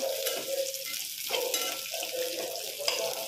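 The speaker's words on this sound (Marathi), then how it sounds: "त्यामध्ये मी शेंगदाणे, कांदा ॲड करून घेतला" Peanuts and onion sizzle steadily in a hot pan with oil, a loud continuous close frying hiss with slight crackles throughout.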